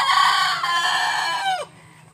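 A chicken crowing loudly and close, one long harmonic call that trails off, then quiet.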